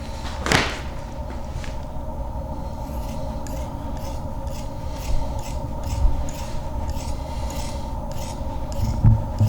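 Scissors cut through drum-making material in a long stretch of repeated rasping snips and scraping strokes, close and fairly steady, with no talking.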